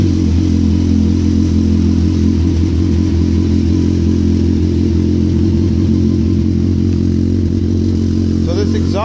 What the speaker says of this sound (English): It's cold start, it hasn't been started for about a week now